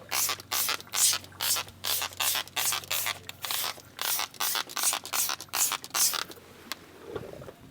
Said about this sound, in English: you get out your tyre brush and it requires a little bit of agitation